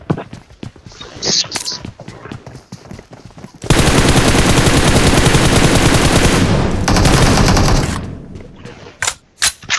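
Gunfire in the mobile battle royale game PUBG Mobile: scattered single shots and footsteps, then a loud sustained burst of automatic fire lasting several seconds, followed by a few more sharp shots.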